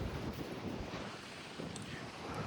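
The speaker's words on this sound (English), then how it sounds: "It is so windy." Strong wind buffets a microphone outdoors during a horse ride, a steady broadband roar with gusty swells and no talking.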